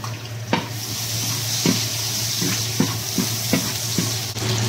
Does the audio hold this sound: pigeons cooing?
no